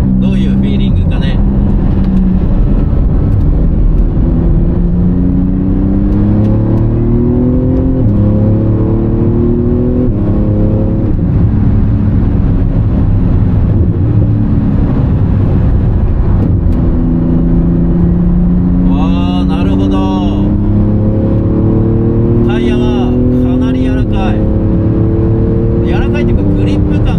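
A Porsche 911 GT2 RS on fresh tyres is driven hard around a track, its engine droning loudly and constantly from inside the cabin and rising and falling through the gears, while someone talks over it.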